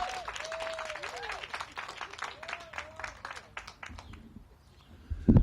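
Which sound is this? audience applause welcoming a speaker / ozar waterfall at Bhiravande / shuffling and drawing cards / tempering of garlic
audience applause welcoming a speaker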